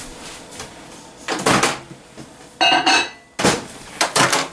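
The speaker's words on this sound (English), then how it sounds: "So I'm going to pop this in the microwave for about 45 seconds" A bowl of chocolate goes into a microwave: a few sharp clunks and knocks of the door and the bowl set down, spaced apart, with a brief rattle between, loud and close in a quiet kitchen.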